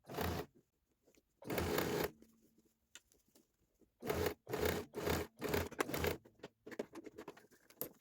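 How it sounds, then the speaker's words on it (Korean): An overlock serger finishes the raw edge of a jacket lining during a sleeve-length alteration, running in short loud bursts close by, separated by near-silent gaps and softer rustles of fabric. "어바록을 한번 쳐볼게요"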